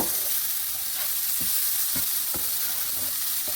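Dal going into a pan on a low stove, giving a loud, continuous close-up sizzle with a few soft rhythmic spatula scrapes underneath and no voices.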